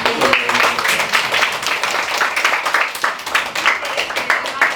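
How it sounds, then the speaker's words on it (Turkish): A group of children clap together in a hall, quick scattered handclaps close by forming an uneven, steady patter with a few voices mixed in. "bir alkış yapalım mı"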